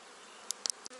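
Honeybees flying around a hive in spring, with a few individual bees buzzing briefly close by against a steady hum from the colony.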